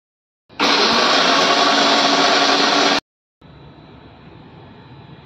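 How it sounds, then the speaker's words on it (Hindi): A kitchen mixer grinder pulverizing sugar into powdered sugar: a loud, close, harsh motor whir for about two and a half seconds, a brief silence, then a second, quieter run of the motor. "तो ये शुगर हमने ग्राइंड कर लिया है, पाउडर शुगर बना लिया है।"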